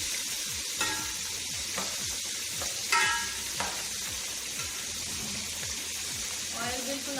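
Masala being stirred into stuffed eggplants frying in oil, with a steady broadband sizzle underneath and repeated scraping strokes of a spoon against the pan at a slow, even rhythm, close and moderately loud.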